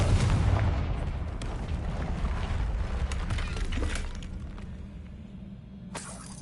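Confringo fire spell explosions in the Hogwarts Legacy video game, loud booming bursts with crackling debris, strongest at the start and tapering off, with a sharp burst near the end and no talking.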